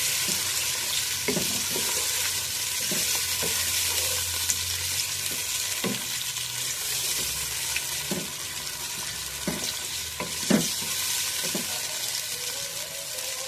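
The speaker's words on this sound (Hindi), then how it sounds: "बस 2-4 मिनट इसको हम फ्राई करेंगे" Beef frying in a pot for beef stew, a continuous close sizzle with regular knocks and scrapes from a spoon stirring the meat, and no voices.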